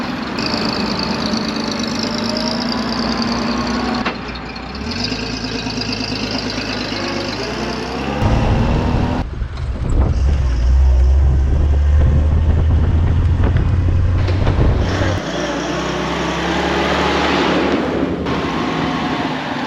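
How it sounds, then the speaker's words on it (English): A World War II-era Dodge military vehicle's engine idles, then revs and rumbles louder as it turns around and drives off, heard close with gusty wind noise buffeting the microphone. "we need to turn the Dodge around and drive back"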